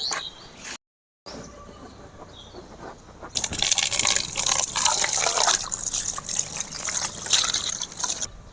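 Tap water runs in a steady, fairly loud gush while a silvery fish with yellow-tinged tail and fins is washed under an outdoor tap, after a brief quieter trickle and short silence.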